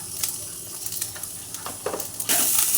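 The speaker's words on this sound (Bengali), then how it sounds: "সিমগুলো ওর সাথে একসাথে ভাজা হচ্ছে" Flat beans frying in a pan with salt and turmeric, a steady close sizzle with light stirring scrapes, swelling louder near the end.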